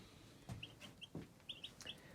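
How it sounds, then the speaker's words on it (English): Twelve-day-old chicks on a desert farmstead give a few soft, faint cheeps and clucks in short scattered bursts, with no talk over them. "I can hear the birds."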